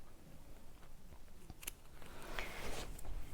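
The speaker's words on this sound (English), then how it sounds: "Now I'm also going to trim right into these corners." Scissors snip into the corners of a fabric pocket, a few quiet cuts at close range with faint crunchy blade sounds and no talking.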